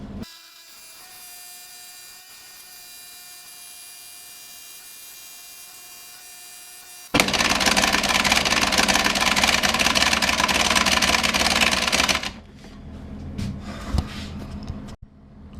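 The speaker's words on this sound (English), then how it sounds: "Sorry if the heater's making noise and everything else." A heater running in a woodworking shop, a faint steady hum for several seconds, then a loud broad roar that cuts in, holds for about five seconds and drops away, followed by a few sharp knocks.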